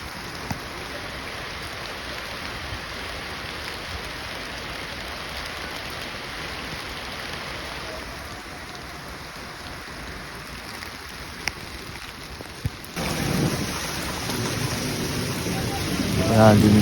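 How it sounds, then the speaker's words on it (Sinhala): Heavy rain falls in mist on the stepped mountain path of the Sri Pada climb, a steady soft hiss that grows louder and closer toward the end. "ඔයාලට මේ පේන ඇතිනේ වැස්සේ තරම් මොනවද කියලා"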